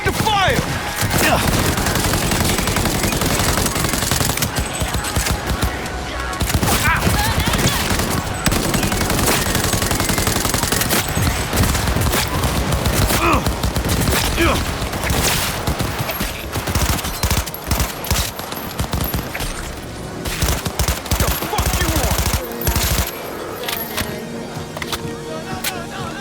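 Dense, continuous gunfire from the Cyberpunk 2077 video game, loud sustained bursts and rapid shots layered over game effects throughout, with brief shouted voice fragments mixed in.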